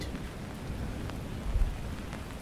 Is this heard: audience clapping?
no